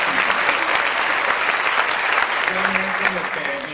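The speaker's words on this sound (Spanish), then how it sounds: "Un aplauso." An audience at a question-and-answer event in Guadalajara claps steadily and densely for several seconds, a broad, even wash of applause that slowly tapers at the end, with a faint voice briefly underneath.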